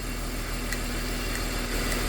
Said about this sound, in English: Okay, so the engine's started.